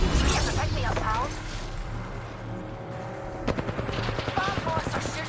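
Gunfire in the shooter game Apex Legends, with rapid automatic bursts and sharp rhythmic shots, loudest toward the end, mixed with game noise while players talk over it.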